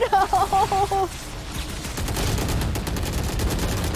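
VALORANT match gunfire, with rapid overlapping volleys from several weapons crackling loudly and continuously after a brief opening of tonal game sounds.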